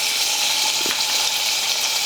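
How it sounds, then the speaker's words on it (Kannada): Mustard seeds, cumin, garlic and curry leaves sizzle steadily in hot oil in a home kitchen, a continuous close hiss with a brief crackle near the middle. "ಈಗ ನೋಡಿರಿ ಎಣ್ಣೆ ಬಿಸಿ ಆಗೈತಿ. ನಾ ಸಾಸಿವೆ ಹಾಕ್ಕೋತೀನಿ ನೋಡಿರಿ, ಸ್ವಲ್ಪ ಜೀರಿಗೆ ಹಾಕ್ಕೋತೀನಿ ನೋಡಿರಿ."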